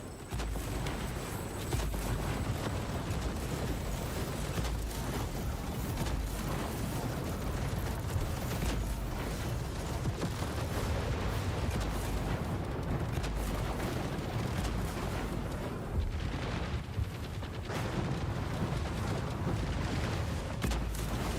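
Rapid weapon fire and explosive rocket blasts from Gemini weapons in a video game form a dense, continuous barrage of booms and crackling impacts that stays loud and steady throughout.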